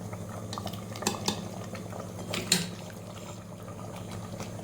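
Spoonfuls of cooked chicken go into a pot of khichdi on the gas and get stirred, with light metallic scrapes and clinks of a utensil against the pot over a steady low cooking hiss, a few sharper knocks standing out.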